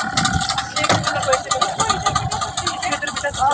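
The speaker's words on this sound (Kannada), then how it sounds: "ಇಂಜಿನ್ ಸ್ಟಾರ್ಟ್ ಆಗ್ತಾ ಇದೆ." A Yamaha boat engine runs on the Harangi backwaters, a loud, close, pulsing mechanical drone, with people talking over it.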